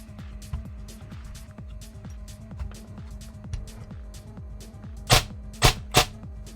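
A Tavor airsoft gun test fired: a steady rapid train of sharp mechanical clacks over a hum, ending in three louder cracking shots, close up with no talking.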